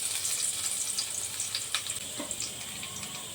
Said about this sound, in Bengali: রসুনটা লাল করে ভেজে নেবো